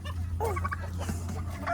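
Chickens on a farm cluck and squawk in short bursts at close range while being carried back after escaping, over a steady low hum.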